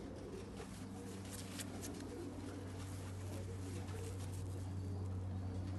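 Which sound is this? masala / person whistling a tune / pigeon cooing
pigeon cooing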